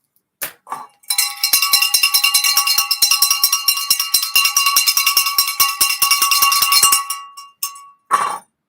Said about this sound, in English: The bell's being rang.